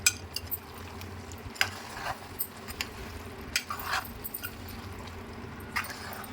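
A spoon stirs chopped tomatoes into mutton gravy curry in a pot, giving intermittent scraping clinks and soft wet sizzling in irregular bursts over a low background hum.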